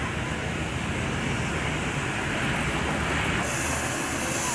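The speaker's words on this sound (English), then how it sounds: "And there's that smelly old train." An old train near a depot in Ouray, Colorado gives off a dense, continuous rumble and hiss, steady and fairly loud throughout, with a brighter hissing layer coming in toward the end.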